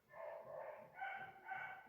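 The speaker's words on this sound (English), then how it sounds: "there are dogs barking, not on my home" Dogs barking from a neighbouring property outside the house, a distant, muffled series of yaps rising and falling in two or three bursts, no voices over them.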